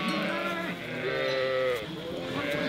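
Sheep bleating during a transhumance drive in Oltenia, Romania, with several loud, wavering bleats overlapping one another close by and continuing for the whole stretch.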